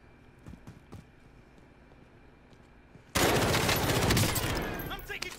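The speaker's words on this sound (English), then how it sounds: "I'm taking fire." Sudden heavy gunfire in Call of Duty Warzone erupts after a quiet lead-in, a dense, loud sustained burst that holds for the rest of the stretch, with faint talk before it.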